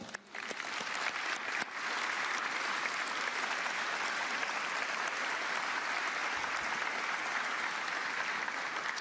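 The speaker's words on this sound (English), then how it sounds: "a warm round of applause" A large audience applauding NASA staff at a White House ceremony honoring the Artemis II astronauts, steady dense clapping that starts almost at once and holds loud and even throughout.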